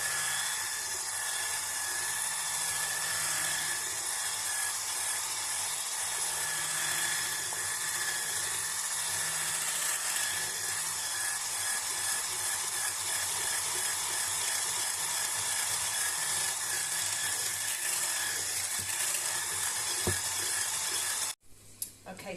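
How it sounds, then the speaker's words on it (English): An electric whisk beating a lime cheesecake mixture, a steady high mechanical whir running close and continuous for about twenty seconds before cutting off abruptly. "So I'll whisk this lot together."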